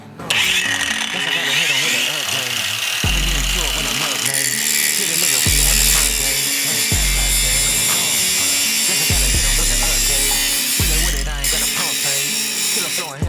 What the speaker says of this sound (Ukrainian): давайте спочатку на мінімальних обертах позачищаю метали і подивимося, чи в неї є підтримка обертів